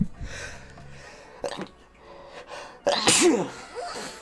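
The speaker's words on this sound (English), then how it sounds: "About to sneeze." A person sniffs and breathes in a few times, then lets out one loud, sharp sneeze up close.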